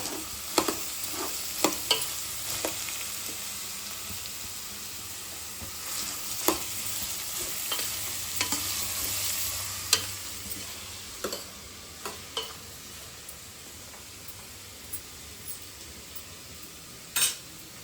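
Shredded cabbage frying in oil in a pan, a low continuous sizzle broken by repeated sharp spoon taps and scrapes against the metal at irregular intervals.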